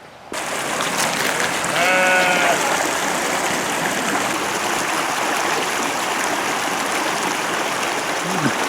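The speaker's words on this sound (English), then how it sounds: "The river runs just behind the Abbey ruins." A river flows in the valley just behind the Shap Abbey ruins, with a continuous, even rushing wash. A sheep bleats once near the start.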